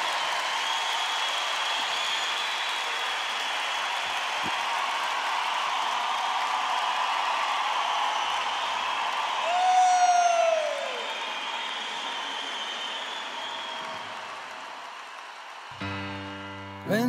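Sustained applause from a live concert audience for conductor Martim Sousa Tavares and the Orquestra das Beiras. A steady wash of clapping swells briefly with a whistle near the middle, then eases as music begins at the end.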